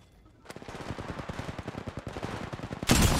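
Automatic gunfire from the Apex Legends Mobile video game: a rapid, even stream of close, sharp shots after a brief quiet start, ending in a louder burst.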